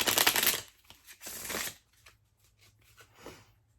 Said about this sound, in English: I'm going to take one out and I'm going to shuffle these